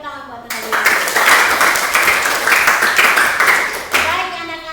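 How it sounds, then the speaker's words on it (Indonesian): Schoolchildren in a religious education lesson clap for their classmates in a loud, dense burst of hand claps lasting several seconds, with a voice speaking just before and after. "Oke, tepuk tangan buat teman-teman."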